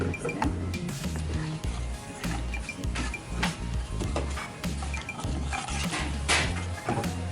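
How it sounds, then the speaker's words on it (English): Balinese salad ingredients with deep-fried tofu stirred in a bowl, giving a busy, continuous clatter of utensil clinks and scrapes against the dish, fairly loud and close throughout. "Stir it again"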